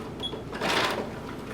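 A sewing machine stitching a seam down one side of a DIY top with leather accents, a short steady mechanical whir heard close, with no talking.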